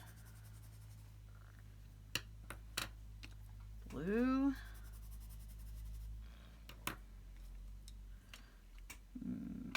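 A Stabilo All pencil swatched on paper gives a few light scratchy strokes and taps, with a person speaking briefly in the middle.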